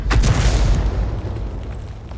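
A tank main gun fires in a video game, one heavy booming shot with a long rumbling low tail that fades slowly, loud and close, aimed at an IS-2.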